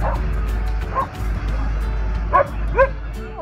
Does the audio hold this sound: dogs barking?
yes